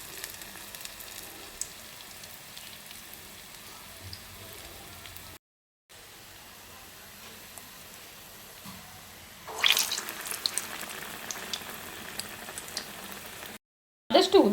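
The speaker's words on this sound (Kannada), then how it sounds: "ಆದಷ್ಟು ಉದ್ದಿನ ವಡೆನ ಲೋ ಫ್ಲೇಮಲ್ಲೇ ಕರಿಬೇಕು." Urad dal vadas deep frying in oil over a low flame give a faint, steady sizzle, briefly cut out twice, with the bubbling growing louder near the end.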